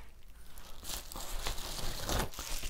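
Crinkling and tearing of plastic wrapping as a mail package holding backpacking sandals is opened, close and fairly quiet, in irregular bursts of crackling, with no voices.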